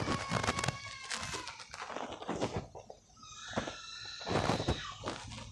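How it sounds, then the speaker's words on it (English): High-pitched screaming and squealing in the background, rising and falling in bursts over a busy, noisy scene with some thumps and muffled activity. "sorry about the screaming in the background, if you guys can hear that."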